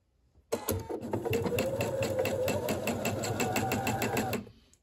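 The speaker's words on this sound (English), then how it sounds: "You're going to sew your horsehair to the skirt with a 1/4 inch" Sewing machine stitching horsehair braid onto a skirt hem with a quarter-inch seam allowance, a steady fast needle clatter starting abruptly and running continuously up close for about four seconds before stopping.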